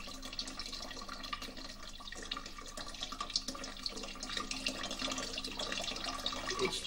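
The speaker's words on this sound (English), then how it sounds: "build a replica of one of his earliest water clocks" Steady trickling and running water flows continuously through a replica of Ctesibius's ancient water clock, a soft, even splashing with faint dripping textures throughout.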